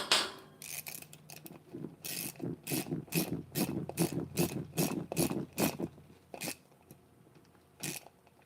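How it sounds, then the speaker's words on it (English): A ratchet wrench works on the rollcage of a Losi LST RC car, giving a rapid series of close, crisp clicking strokes in irregular bursts with short pauses, alone and fairly quiet. "Alright, I had my ratchet around here somewhere."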